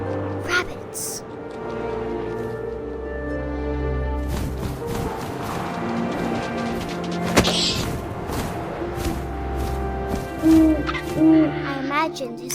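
Owl hooting in the video game What Remains of Edith Finch, a few short hoots near the end over a steady wind and ambient game score, with distant thuds and no talk.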